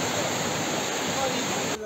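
Rushing water from the Arkanis waterfall and Çatak stream near Van roars as a loud, dense, continuous wash at close range, with a faint voice underneath.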